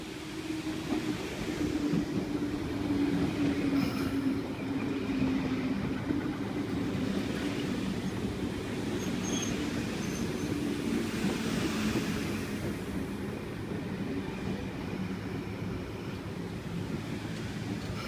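A Sydney Trains S set electric train arriving at Strathfield station, its steady rumble and hum filling the whole stretch, broad and continuous with some wind noise, with no talking.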